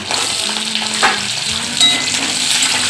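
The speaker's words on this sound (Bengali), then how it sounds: "তেলটা গরম হয়ে গিয়েছে এর মধ্যে এক এক করে সবজিগুলো আমি কষে নেবো প্রথমে গাজর আর মূলোটা দিয়ে নেব" Carrot and radish sautéing in hot oil for a Bengali shukto, a loud, close, steady sizzle with the scrape of stirring, no talking.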